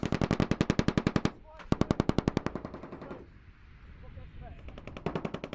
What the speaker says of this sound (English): C Company's gun section head to the top of a nearby hill to lay down suppressing fire against a series of pretend targets.